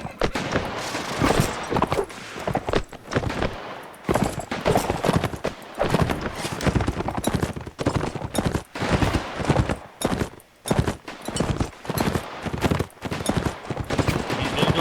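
Horse galloping in the Mount & Blade video game during a US Civil War mod battle, loud continuous hoofbeats mixed with bursts of gunfire and battle noise throughout.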